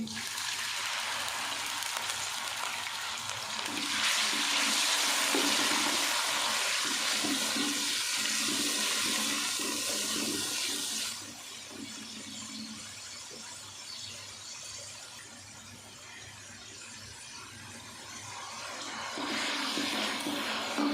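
Water pours into a pot of aloo matar pulao with garam masala, a long hissing, gushing stream that swells loud for several seconds, then eases to a quieter sizzle before rising again.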